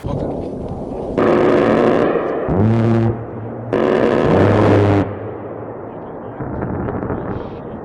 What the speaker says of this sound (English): everyone with a crew serve would rather have an A10 Warthog strafe run